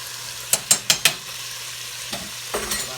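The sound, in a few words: stirring penne pasta in a pot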